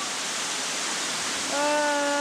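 A waterfall on Madeira pours into a cold natural pool, a loud, dense, even roar close by. A brief tonal sound rises over it near the end.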